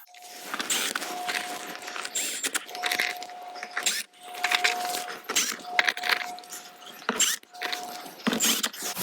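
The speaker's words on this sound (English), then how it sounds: "Push in so all of our clips line up and install all of our screws around it." A Jeep Wrangler JL door panel is pushed back into place and its screws are driven in, giving close clicks, plastic knocks and rattles with a steady faint tone beneath, busy and irregular throughout.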